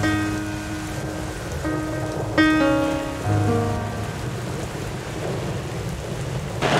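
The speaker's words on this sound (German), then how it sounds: "der Regen draußen ist so stark, beziehungsweise gewittert es" Heavy rain pours steadily, with low rumbles of thunder and some faint ringing tones in the background.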